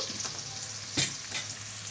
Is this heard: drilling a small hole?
no